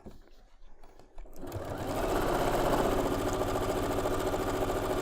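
A sewing machine stitching a seam on a big pinwheel star quilt block, starting after a brief quiet handling moment and then running in a fast, steady mechanical whir close by.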